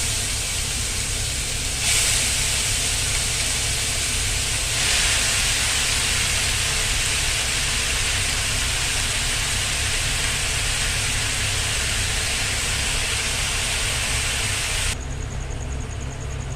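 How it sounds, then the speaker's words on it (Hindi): A kitchen exhaust fan runs continuously, a loud steady broadband whoosh with a low hum underneath and slight shifts in tone partway through, alone without speech. "एग्जॉस्ट फैन ऑन कर ली। आ तार साउंड के आपण माने प्लीज इग्नोर मारबे।"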